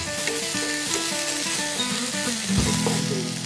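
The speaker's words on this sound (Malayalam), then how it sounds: "ഇഞ്ചി വെളുത്തുള്ളിയും കൂടി അരച്ചുണ്ടാക്കി പേസ്റ്റ് ഇട്ടിട്ട് ഒന്ന് നന്നായി വറ്റിയെടുക്കണം" Ginger-garlic paste sizzles steadily in a hot pan, a dense, continuous frying hiss with stirring scrapes, joined by a louder burst of sizzle near the end; background music plays along without speech.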